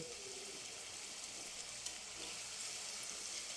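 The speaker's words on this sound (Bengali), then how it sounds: "পেঁয়াজটা একটু ভেজে নেবার পরেই আমি আলুগুলো এর মধ্যে দিয়ে দেব" Chopped onion, with potatoes about to follow, sizzles in oil in a pan while cooking ghugni; a steady, close, even frying hiss runs throughout with no talking.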